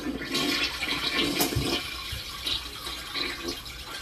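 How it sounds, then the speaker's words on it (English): A toilet flushes with rushing, gurgling water, then the tank refills and drips, fairly close and without any talking. "Shall I proceed with a toilet flush?"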